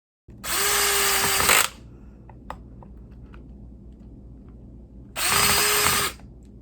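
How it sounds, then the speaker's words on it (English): A power drill whirs loudly in two bursts, about a second each, drilling into clamped plastic or laminate, separated by a few seconds of quieter background with faint clicks. "now I'm going to try to drill"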